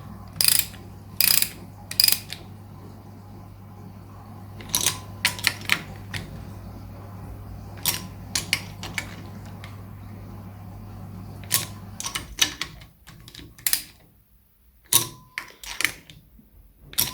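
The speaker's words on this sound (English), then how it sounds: "always get these deep sockets as well" A ratchet with a deep socket works on a nut of a Triumph Trident T160 engine during a rebuild, giving quick bursts of sharp metallic clicking separated by pauses, close up and otherwise quiet, with no speech.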